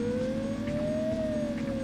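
Police car siren in the video game Driver 2, a steady wailing tone that slowly rises and falls over a continuous engine and traffic rumble, loud and close throughout.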